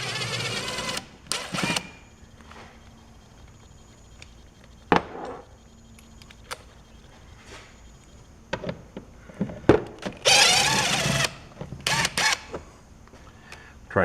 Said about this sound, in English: let's get the 4 screws out of this airbox lid